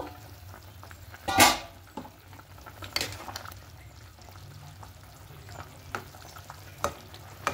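Potatoes frying in a pan sizzle softly at a low level, broken by a sharp utensil clatter early on and scattered stirring scrapes and taps.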